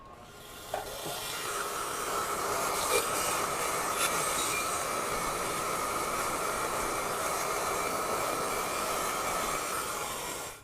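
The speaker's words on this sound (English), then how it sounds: "Basically, turn the wire wheel on and get to work on those fasteners." Wire wheel scrubbing rust off bolts and fasteners, a steady, loud, continuous whirring grind with a brief sharper scrape near the start.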